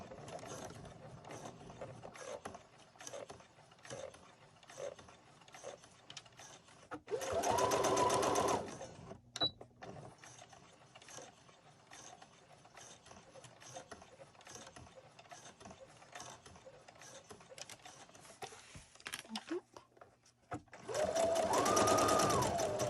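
A sewing machine stitches a cloth face mask in two loud, fast whirring bursts, with quieter handling and faint fabric rustling in between.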